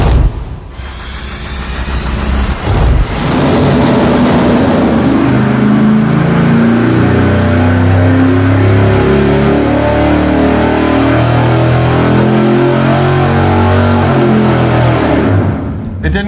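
A car engine on a dyno with its cooling fan running and the radiator shroud removed roars in a long, loud, sustained rev that builds and then cuts off sharply at the end.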